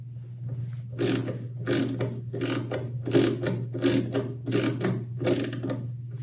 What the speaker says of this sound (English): After loosely installing all of our fasteners, we are going to tighten them down with our speed handle.